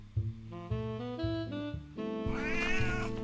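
Cat meowing in the video game MindCop: Eliot's Return, a string of drawn-out, wavering meows and a rising caterwaul, close and clear with no talk.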